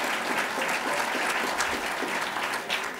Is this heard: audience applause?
yes